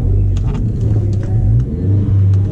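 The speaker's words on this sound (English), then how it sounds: "Tried a little wheel spin there to get the tires warm." Volkswagen Golf GTI engine revving hard during a wheel spin, a loud, continuous throaty drone with rising and falling pitch and tyre noise up close, no talking.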